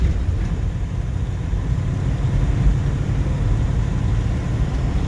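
A 1953 Buick Roadmaster's 322 cubic inch nailhead V8 with a 4-barrel carburetor runs steadily with a deep, low rumble that stays loud and even throughout.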